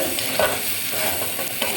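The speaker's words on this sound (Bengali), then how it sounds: "এই তো আমার পটল ভাজা হয়ে আসছে" Sliced pointed gourd (potol) sizzles in hot oil in a pan, a constant crackling fry with occasional louder bursts as the pieces are stirred, with no one talking.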